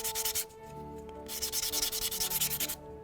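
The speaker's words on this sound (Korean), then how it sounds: "사포질 조금만 해주면" Quick rhythmic scratchy rubbing of sandpaper against a cut edge of hard 3D-pen plastic, close up and steady, in short repeated strokes with a brief pause.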